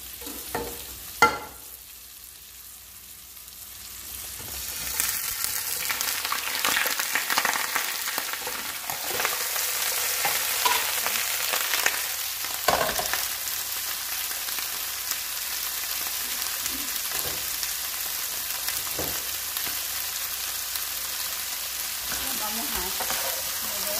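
Vegetables sizzle and crackle as they are stir-fried with chicken breasts in a hot pan, a steady frying hiss with occasional stirring scrapes and clatter, close and continuous without talk.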